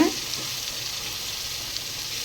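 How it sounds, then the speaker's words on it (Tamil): Chopped vegetables for a vegetable biryani sizzle steadily in hot oil as they are stirred together in a pan, a constant close hiss with no voices. "இது எல்லாத்தையும் ஒன்றா சேர்த்து நல்லா வந்து கிண்டி விட்டுருங்க"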